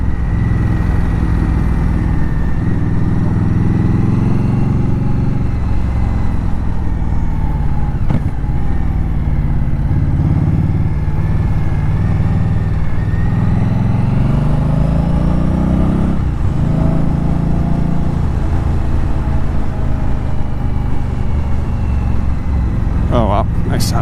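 A 2018 Indian Scout Bobber ABS motorcycle engine runs steadily and loud throughout a ride, with wind and road rumble, while a rider talks over it.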